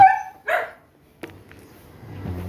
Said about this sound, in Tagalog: yung mga asong makukulit na, na, na. ibig sabihin niya naguguto na sila ah, nag-iingay na oh, ingay-ingay na sila